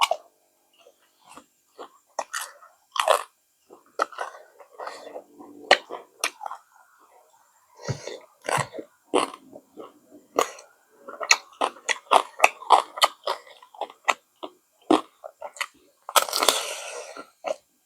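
Loud, close crunching and chewing of crispy fried pork eaten with spicy papaya salad in large bites, irregular crisp bursts spread through the whole stretch with short pauses between mouthfuls and no talking.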